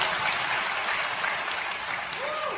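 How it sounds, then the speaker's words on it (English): A studio audience applauds steadily throughout at moderate level, a continuous wash of clapping with a voice briefly rising near the end. "that deserves a round of applause"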